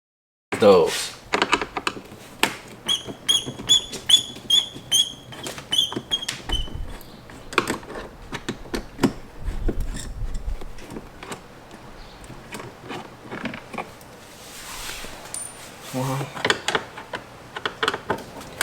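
Phillips head bolts being unscrewed from the passenger side mirror of a 2020 Toyota Corolla, heard as close, irregular clicks, ratcheting taps and light mechanical knocks over about eighteen seconds.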